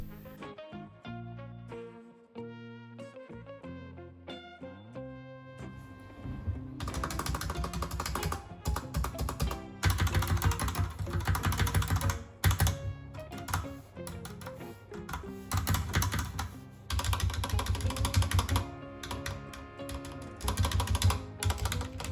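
Keystrokes on a Motospeed GK82 mechanical keyboard with its keycaps removed, starting as sparse clicks and building into a steady, loud run of dense typing with no voices.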